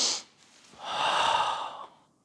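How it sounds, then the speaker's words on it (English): A karate practitioner takes a long, deep breath in while performing the Naihanchi kata. The inhale is steady, close and fairly loud for about a second, following a brief sharp exhale, with no talking. "you can breathe in."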